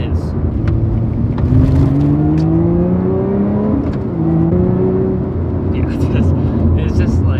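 A 2021 Lotus Evora GT's engine and exhaust drone steadily from inside the moving car, with the pitch rising and falling through gear changes while people talk over it.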